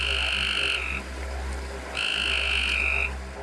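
Frogs croak in a steady chorus, with two loud bursts of dense calling separated by a short quieter lull, nearby and without any talk.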